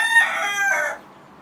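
A breeding rooster intended as a broodcock, with a single loud, close crow lasting about a second and then a quiet tail.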